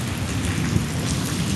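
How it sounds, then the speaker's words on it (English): Wind and steady rain roar together in a dense, continuous wash that stays loud and unbroken on a rainy, windy bike trip through southern Ohio. "Windy and rainy."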